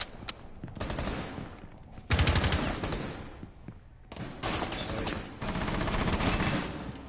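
Bursts of rapid automatic gunfire from a gunfight in a competitive PS4 video game match, loud sustained volleys with brief gaps between them.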